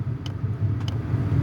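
A diesel heater fuel pump, powered by a small portable power station, ticks in quick, light clicks, two close together, above a constant low droning hum as the pumping speeds up.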